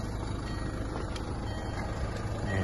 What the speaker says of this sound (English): It's only beeping at me because the door's open and the engine's on.